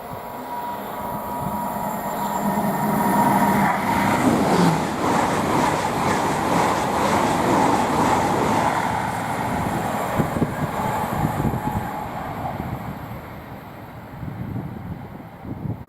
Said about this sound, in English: the next train to pass by is going to be an Oxford to London Paddington IET, worked by 800